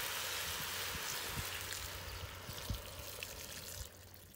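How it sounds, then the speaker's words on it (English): Stock poured into a potjie pot of impala stew with bacon, herbs and spices over a wood fire, a continuous close splashing pour with a few louder glugs, fading slightly toward the end. "And then we pour in all our stock."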